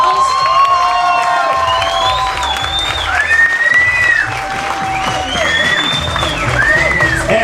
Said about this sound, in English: let's give the wedding party one final great big round of